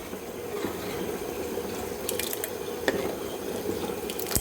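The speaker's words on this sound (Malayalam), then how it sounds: "അതായിപ്പോൾ നന്നായി തിളയ്ക്കുന്നുണ്ട്" Green gram simmering in jaggery syrup for payasam makes a steady bubbling boil with scattered small pops and ticks, close and even, with no voices.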